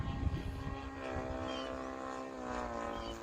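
A Hanger 9 Taylorcraft 30cc quarter-scale RC airplane flying outdoors in wind, its gas engine giving a steady buzzing drone with rich harmonics at moderate distance, pitch wavering slightly as it passes, with no talk.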